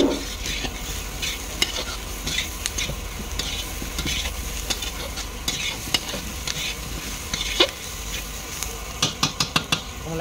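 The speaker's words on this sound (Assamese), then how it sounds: "অকণমান সময় ভাজি ল'ম।" About a kilogram of washed, cut potatoes sizzling steadily in a pan for an Assamese meat dish, with repeated scrapes and clinks of a spatula stirring against the metal, the clatter bunching up toward the end.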